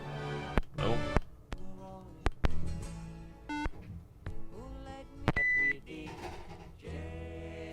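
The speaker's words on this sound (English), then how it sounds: "couldn't tell you why there are beeps and bops on that" A vinyl record plays a jumble of electronic beeps and bops, short tonal blips and bursts start and stop irregularly in a choppy, moderately quiet sequence.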